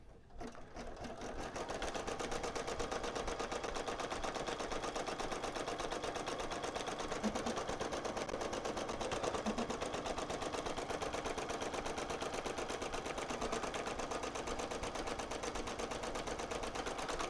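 An embroidery machine stitches the placement line for a small collegiate applique letter L, a fast continuous mechanical whirr of needle strokes running steadily and evenly for the whole stretch, fairly loud and close.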